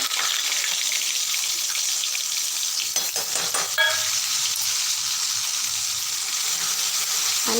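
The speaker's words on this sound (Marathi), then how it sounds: "आता आपण जो मसाला ग्राइंड केलेला आहे तो कढईत घालायचा" Ground masala sizzles and fries in hot oil in a kadhai for a Khandeshi dubuk vada curry, a continuous close hiss with brief clatters of stirring near the middle, and no voices.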